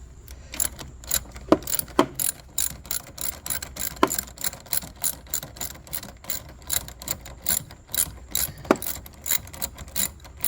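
Ratchet with a 10 millimeter socket worked on the engine of a Toyota Avalon during valve cover gasket replacement, giving repeated rapid clicking bursts in short strokes, close and fairly loud, with no talk.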